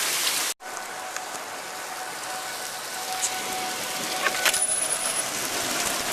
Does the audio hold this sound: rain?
yes